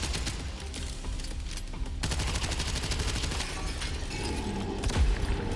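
Rapid bursts of gunfire and blasts from fragmentation grenades in the underwater action game Abyssus, dense and continuous, with a heavier boom near the end.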